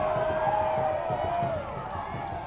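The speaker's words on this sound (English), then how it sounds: "Great crowd noise here tonight," The crowd at a high school regional quarterfinal softball game makes a continuous noisy wash of shouting and cheering, fairly loud, with a sustained whistle-like tone running through it and a voice talking over it.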